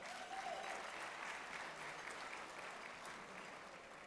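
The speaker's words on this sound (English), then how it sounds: "And please give them a round of applause." A conference audience at the SEAHO 2020 opening gives sponsors a steady round of applause, a dense, fairly soft wash of many hands clapping that holds evenly throughout.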